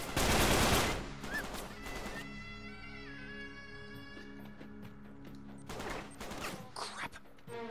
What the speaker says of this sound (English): Now, are they shooting those Gatling guns?